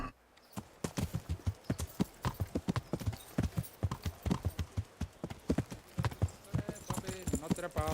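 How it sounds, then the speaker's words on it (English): Horse hooves clip-clop in a steady, rapid rhythm in the medieval game Kingdom Come: Deliverance, loud and close throughout, with a whinny and some game noise mixed in. "nice horse"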